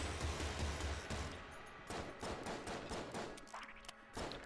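Rapid chaos bullets gunfire in the roguelike shooter Enter the Gungeon, a dense burst of repeated shots in quick rhythm, fairly quiet overall and tapering off near the end.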